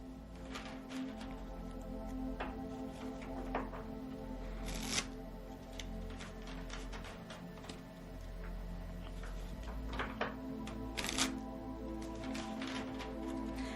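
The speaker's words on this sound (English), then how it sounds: "Let's give our cards a shuffle here" Cards being shuffled repeatedly, crisp riffling bursts over a steady low background hum, close and moderately loud.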